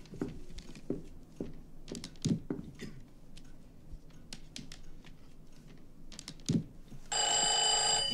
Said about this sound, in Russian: Да отключи ты этот чертов телефон.